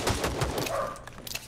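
A quick burst of gunfire in the video game Rules of Survival, several rapid cracking shots close together, loud and short with a bit of rumble beneath.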